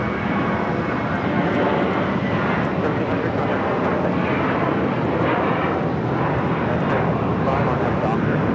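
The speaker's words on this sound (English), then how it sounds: "This is JetBlue, flight 1700, taking off to Fort Lauderdale on the A321." JetBlue Airbus A321, flight 1700 to Fort Lauderdale, roars down runway 25 right at Los Angeles International on its takeoff roll, a loud, sustained broadband jet rumble that continues unbroken, with a voice talking over it.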